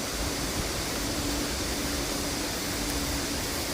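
Stream water rushes loudly through the rocky Sutaegol valley on Palgongsan, a dense and unbroken broadband roar that holds steady and fills the whole scene without pause.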